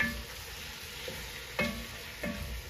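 A spoon stirs white sauce pasta in a pan, giving soft scraping strokes with a few sharper clinks against the pan over a quiet, faint sizzle.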